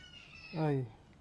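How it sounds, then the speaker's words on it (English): One drawn-out, harmonic caw from a crow outdoors near a workshop where a Lotus Elan M100 engine is being removed, rising then falling, moderately clear over a quiet background. "Well, the birds are having fun."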